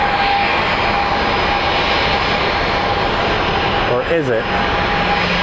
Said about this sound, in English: up next on the departure is Alaska Airlines 763 going to Seattle